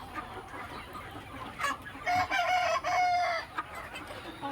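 A flock of two-to-three-month-old chickens on a poultry farm clucks steadily nearby while a rooster lets out a long, loud crow in the middle.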